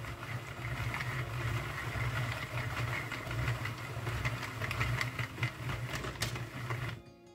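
A hand-cranked Sentro knitting machine whirs and clatters in a steady, fast mechanical rhythm, needles ticking continuously up close until the motion abruptly stops at the end.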